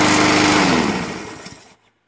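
A Cub Cadet SC700e push-button-start lawn mower engine runs loud and close, then winds down and cuts out to silence within about two seconds.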